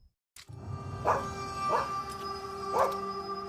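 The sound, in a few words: dogs barking in the distance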